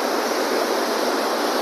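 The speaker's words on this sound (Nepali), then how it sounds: "यो त हिमालबाट आएको पानी साथीहरू" Himalayan meltwater river flowing fast in a Kaski jungle, a dense steady roar of rushing water, loud and unbroken with no voices over it.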